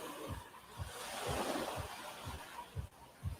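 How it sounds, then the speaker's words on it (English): Sea waves wash faintly onto a beach at Ko Lanta as a soft, steady rush, with low rhythmic thumps of wind buffeting the microphone and no talking. "You probably hear the sea in the background"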